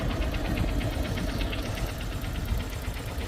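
A line of boats passing one after another, their engines making a steady, continuous droning rumble with a faint rhythmic knock, fairly close and with no voices over it.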